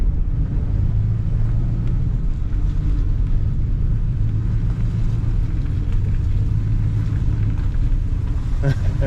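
A 1966 Pontiac Grand Prix barn find idles in an alley with its back wheels stuck, giving a steady low rumbling engine drone that stays constant and close throughout.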